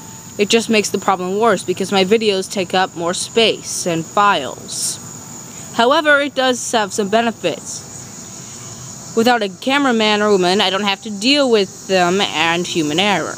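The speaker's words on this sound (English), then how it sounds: "the background noise you hear here is just crickets chirping" Crickets chirp steadily outdoors as a constant high buzz in the background, running beneath someone speaking throughout.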